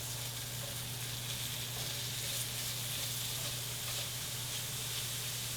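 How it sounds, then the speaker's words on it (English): Sausage meat browning in a pan for keto biscuits and gravy, a continuous soft sizzle and crackle with a steady low hum behind it, no talking. "You can hear the sizzle and smell the sausage"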